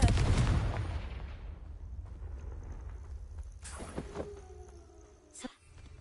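A Confringo blasting spell goes off in a Harry Potter-style video game, a heavy boom at the start decaying into a rumbling tail, followed by fainter sharp cracks and impacts.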